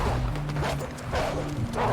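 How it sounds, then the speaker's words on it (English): Wolves yelp and bark in Red Dead Redemption 2, in short overlapping cries with a steady tonal hum behind them, loud and close throughout. "We got more wolves on the left!"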